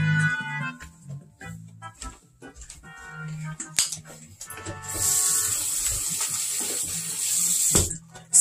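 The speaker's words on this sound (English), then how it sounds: "You will turn on the water, wet them, get some soap," Water running from a tap into a sink for hand washing, beginning with soft splashes and clicks of handling, then swelling into a steady hissing stream near the end before it stops.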